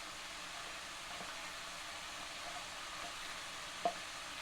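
Chicken frying in a pan with ginger garlic paste gives a soft, steady sizzle, with a couple of faint scrapes and one brief clink near the end, quiet and without speech.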